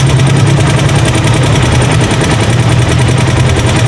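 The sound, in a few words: trike motorcycle engine running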